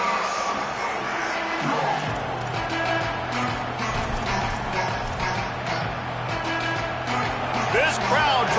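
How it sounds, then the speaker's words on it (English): A packed football stadium crowd at a Penn State versus Florida game roars continuously, a dense, loud wall of cheering that swells after the second mark, with a commentator talking over it. "This crowd trying to show them what it's going to be like all day in this house."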